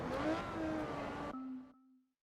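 A Ferrari engine in the racing game Forza Motorsport 2 revs with a rising and falling whine, then drops to a steady tone that fades out abruptly, with no talk over it.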